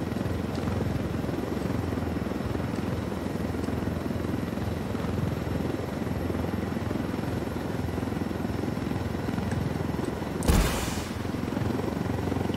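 Helicopter in the video game Ghost Recon Wildlands, a continuous low rotor thump and engine drone heard from inside the aircraft at steady volume, broken near the end by a single sharp blast.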